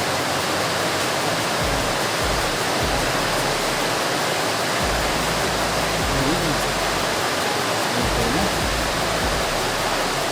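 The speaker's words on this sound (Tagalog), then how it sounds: "nakalakas ang ulan" Steady, dense broadband hiss of heavy rain pouring continuously, loud and close, with no pauses.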